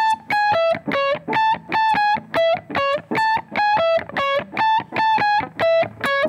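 Dry electric guitar plays a syncopated lead line with no delay or reverb, a crisp repeating figure of short, clipped notes in a steady bouncing rhythm, close and fairly loud with no voices.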